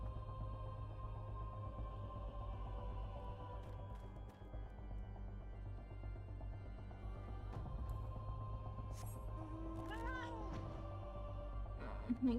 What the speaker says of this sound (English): My kitty.